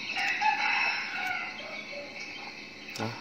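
Jungle fowl rooster crowing from a small backyard flock of three cocks and five hens, a drawn-out crow with strong harmonics filling most of the clip, with insects chirring underneath and a short knock near the end.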